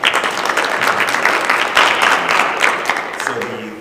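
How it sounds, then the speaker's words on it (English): Audience at a school board meeting breaking into a round of applause, a sustained burst of many hands clapping close and loud, with a faint voice near the end. "Round of applause for that."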